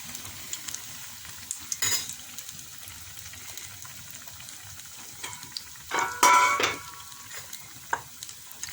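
Idli bajji, leftover idli pieces dipped in batter, frying in hot oil with a soft steady sizzle and intermittent scraping and stirring clatters of a ladle against the pan, one louder burst of bubbling near the end.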